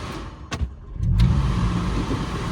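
An MK5 VW Rabbit with a failing fuel pump struggles to stay running, a couple of short clicks giving way to a rough, loud engine drone that surges and wavers close by.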